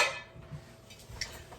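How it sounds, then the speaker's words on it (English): Metal lid set onto a cooking pot on the stove, a couple of soft clanks and a brief ring, faint and close. "Put the lid on, listen for that to come up to a boil."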